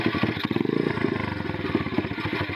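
A small motorcycle engine with a carburetor being adjusted runs close by, idling with a rough, uneven putter and slight fluctuations as the throttle is released.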